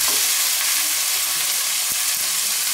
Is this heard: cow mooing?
no